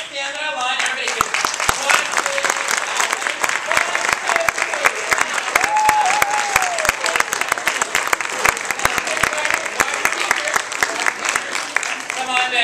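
Applause from a school-play audience, lively sustained clapping mixed with children's voices and calls, steady from start to finish.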